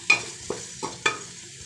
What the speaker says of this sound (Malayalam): ചേർത്ത് നന്നായി ഇത് ഇളക്കി വഴറ്റിയെടുക്കും